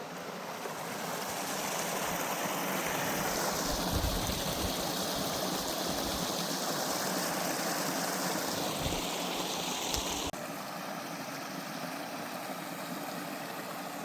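Steady rushing water where a bush road crosses Peters Creek, a continuous broadband flow sound close by with no voices, holding even throughout with a slight drop in level near the end.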